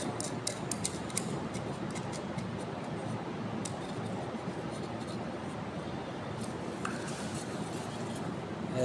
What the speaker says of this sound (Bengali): এখন নাটটা টাইট দেওয়া লাগবে